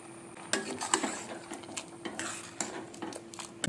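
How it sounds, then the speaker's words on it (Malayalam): A spoon stirs ground masala into curry in a pan, giving soft, irregular scraping and clinking strokes against the metal, fairly quiet, with a faint sizzle and no talking. "അരച്ച മസാലയും കൂടി നമുക്കിതിലേക്ക് ഒഴിച്ചു കൊടുത്ത് നന്നായി ചേർത്ത് ഇളക്കാം"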